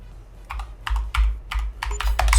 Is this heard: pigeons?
no